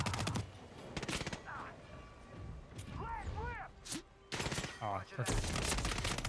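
Bursts of gunfire in the game Hitman 3, several loud clustered volleys of shots and rapid fire crackling amid game sounds, with a player speaking briefly between them.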